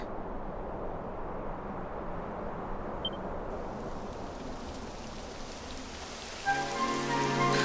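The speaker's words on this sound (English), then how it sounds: "It would have to go and start raining, wouldn't it?" Rain pours steadily on cobblestone surfaces in Dragon Quest XI S with a soft, wide hiss, then a bright tonal musical sound enters near the end.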